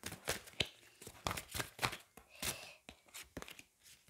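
Oracle cards with angel designs being shuffled by hand, giving a quick run of close, crisp papery riffles and flicks in uneven bursts, with no talk over them.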